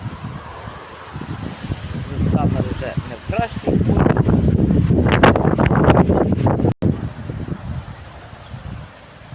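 Wind gusts during a storm with rain and hail buffet the microphone and sway tall rose plants, a blustery rumble and rustle beneath someone talking in Ukrainian.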